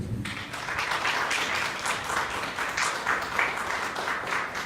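Audience at a Spanish-language church sermon breaks into loud, sustained applause, a dense steady patter of many hands clapping that fills the whole stretch with little variation.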